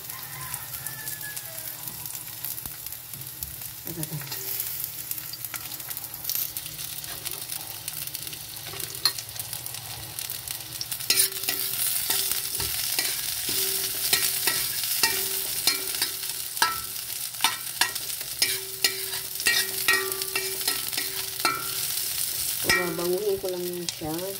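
Ingredients sautéing in a hot pan, a steady crackling sizzle that grows louder partway through, broken by repeated scraping and clinking of a spatula as they are stirred, with no talking.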